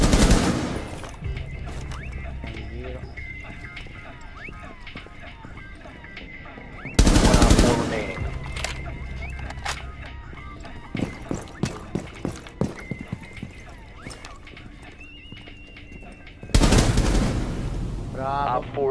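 Gunfire in the video game Rainbow Six Siege: a sharp loud burst opens, a run of quick shots follows in the middle, and another loud burst closes it, all over game ambience with no speech.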